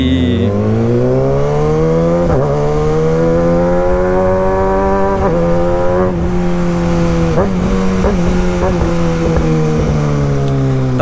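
A Kawasaki ZX6R motorcycle with a gutted exhaust, an SC end can and a hollowed-out catalytic converter revs loudly and close. Its engine climbs and drops several times over a steady high-pitched drone.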